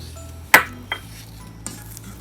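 A utensil clinks against a bowl while no-bake cookie ingredients are mixed with vanilla essence: one sharp clink, then two softer taps, close and quiet.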